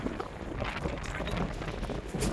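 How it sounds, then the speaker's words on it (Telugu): A strong sea wind buffets the microphone, giving a steady loud roar with gusty rumble and no pause. "ప్రస్తుతానికి అయితే గాలి బాగా ఎక్కువగా ఉంది"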